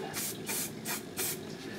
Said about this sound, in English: It's dry enough now for me to spray it.